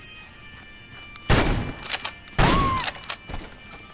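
Two heavy shotgun blasts from a VR World War II shooter game, Medal of Honor: Above & Beyond, booming loud and close with a thudding impact and decaying tail, followed by smaller clatters, no talking.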